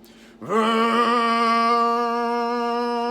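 A man vocally imitates a Ford car engine cruising while driving, a steady sustained hum that starts abruptly after a short pause and holds level and close for about three seconds.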